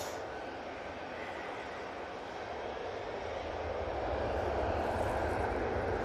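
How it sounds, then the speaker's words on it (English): An easyJet airliner on its take-off roll at Manchester Airport makes a broad, distant engine roar that swells gradually toward the end, heard faintly with no talk. "Easyjet on the roll."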